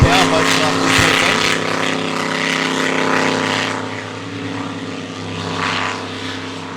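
Racing powerboat She's the Culprit from the Upper Hawkesbury Powerboat Club roars steadily on the water during Gold Cup practice, a loud continuous engine drone that eases slightly toward the end, with a commentator's voice faintly underneath.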